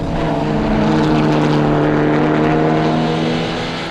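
A Supersport racing car in the Supercar Challenge at Assen roars past on track with a loud, sustained engine drone that stays steady and then fades slightly at the end.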